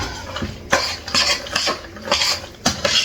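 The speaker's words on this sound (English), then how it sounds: "And we're giving it a good incorporation stir." A spoon scrapes and clinks repeatedly against a dish, stirring tuna casserole ingredients in an uneven rhythm, close and fairly loud.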